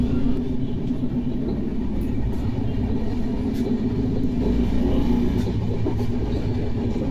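A moving passenger train on the Ernakulam to Dhanbad run gives a steady, continuous low rumble from inside the carriage, unbroken and even in level throughout with no voices standing out.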